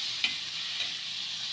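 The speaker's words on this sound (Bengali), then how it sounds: "দিয়ে দিচ্ছি বেটে রাখা মশলা, আদা পেঁয়াজ রসুন লঙ্কা জিরে একসাথে বেটে নিয়েছি। এটা আমি এর মধ্যে কষিয়ে নিচ্ছি ভালোভাবে।" A ground paste of ginger, onion, garlic, chilli and cumin fries in hot oil, with a steady close sizzle and a couple of brief stirring scrapes, no voices.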